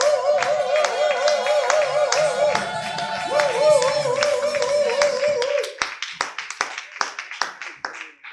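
A church congregation claps in steady rhythm while music plays, then the music drops out and scattered applause and cheering carry on alone.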